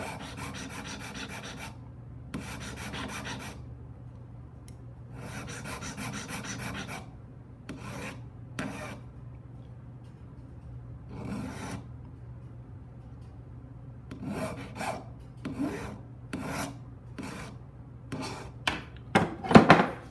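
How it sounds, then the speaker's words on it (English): A metal file rasps silver plating off a magnetic clasp in close, scratchy bursts of strokes, separated by quiet gaps, with quicker short strokes toward the end. "just going to file the silver off to expose the magnet"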